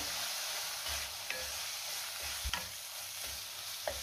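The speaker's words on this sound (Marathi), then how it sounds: "आता हे सगळं व्यवस्थित मिक्स करून घेऊया।" Red chili, coriander and cumin powders with turmeric are mixed in a sizzling pan for dhaba-style paneer, a low frying hiss broken by three or four sharp spoon scrapes against the pan, close by.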